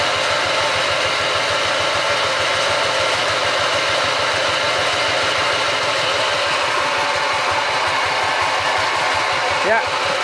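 A Kubota S series diesel engine runs steadily with a rough, rapid chugging pulse, loud and continuous throughout, with a faint rattle near the end.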